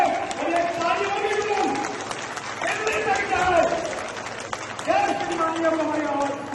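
A crowd at an old pension rally of government employees in a market claps steadily for several seconds, the applause rolling on under loud shouting and voices over a PA.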